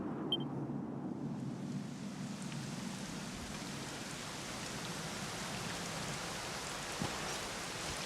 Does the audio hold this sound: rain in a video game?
yes